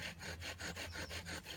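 A wooden bushcraft friction-fire drill spins against a wooden hearth with rhythmic back-and-forth rasping, about eight quick even strokes, quiet and close.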